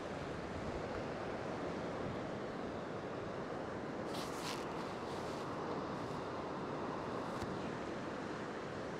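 Continuous ocean surf pounding against a rocky headland that juts into the sea, a steady broadband roar with wind buffeting the microphone throughout.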